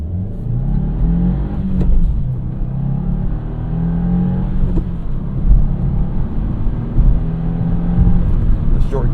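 A 2025 Subaru WRX TS pulls hard from a standstill, its engine note rising steadily with short-geared shifts. The exhaust rumbles loud and near throughout, with occasional brief breaks between gears.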